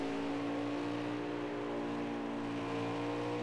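Stock race cars running laps at the New Hampshire oval in a 2021 Cup race, a dense, steady engine drone holding loud and constant throughout with no pauses.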